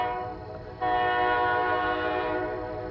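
Kiamichi Railroad train at night in Idabel, Oklahoma, its horn sounding loud and steady throughout, a sustained chord that swells stronger after a brief dip, over a low rumble of the passing train.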